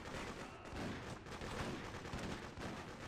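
Enemy gunfire in the Freedom Fighters video game, during a campaign mission at Governor's Island, Fort Jay: a dense, continuous stretch of loud, crackling shots and bursts that runs alone for the full three seconds.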